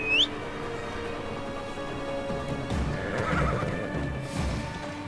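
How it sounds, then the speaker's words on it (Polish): A horse in the video game Assassin's Creed Odyssey gives a short shrill neigh at the start, followed by soft hoof clip-clops and faint ambient game sound, with no talking. "Gdzieś mi ten koń uciekł."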